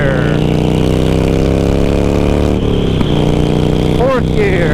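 A Harley-Davidson Sportster with loud exhaust pipes roars close by as it accelerates, engine pitch climbing and dropping between gear shifts, with a voice speaking over the rumble.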